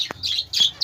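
Rosy lovebirds and Lutino birds in a breeding cage give a quick series of high, sharp chirps, close and clear, one call after another.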